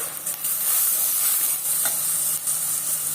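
Okra and meat sauté in a generous amount of oil, a bright, continuous close sizzle with brief stirring scrapes, no voices.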